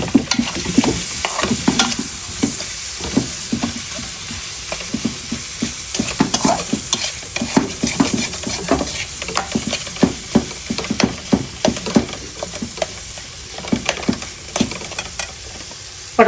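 Spices, chili, cumin and coriander powders and small tomatoes fry in a pan, a continuous sizzle broken by frequent scraping, clacking stirring strokes in an irregular rhythm, close and fairly loud with no talking.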